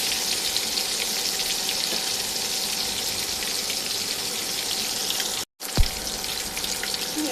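Fish sizzling in a pan for a Bengali spicy radish-and-fish dish, a steady dense crackle of hot oil heard close and continuous, briefly cut to silence near the end.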